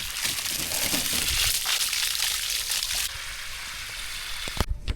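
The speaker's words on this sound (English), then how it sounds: "Let's bring the hose to rinse it." A garden hose sprays water over a car coated in thick foam, rinsing it off with a steady, close hissing splash that drops in intensity partway through, then ends with a few knocks and clatters.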